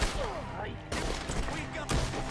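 Rapid gunfire bursts in Red Dead Redemption 2, loud broadband blasts at the start and repeating near the middle and end, with voices talking over the shooting.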